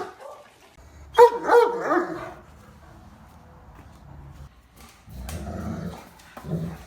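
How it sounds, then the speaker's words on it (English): Great Dane barking and growling in two loud bursts, the first around a second in and a second near the end, with low rumbling between them. "Great Dane."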